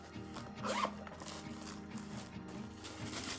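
Small plastic mini zipper bag being opened and handled, a quick rasping zip sound with soft crinkles, close and quiet in a calm indoor room.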